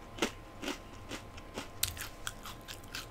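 Crisp crunching bites and chewing on a cheese-flavored rice cracker, several close, quiet crunches at irregular intervals with no talk over them.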